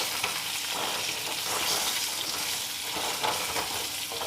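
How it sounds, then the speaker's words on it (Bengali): Potato pieces seasoned with salt and turmeric powder fry in a pan with a loud, dense, continuous crackle, occasional stirring scrapes surging over the sizzle. "এখন আমি আলুটাকে লাল করে ভেজে নেব।"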